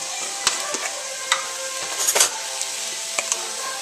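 Chopped mushrooms tipped into a pan of cooked sausage and vegetables set off a steady sizzle, with sharp utensil clinks and stirring scrapes scattered through it.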